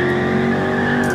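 A V8 car engine in Gran Turismo Sport drives on the Nordschleife in a Challenger or Mustang, holding a loud, steady drone at one pitch for a short burst, with no talk.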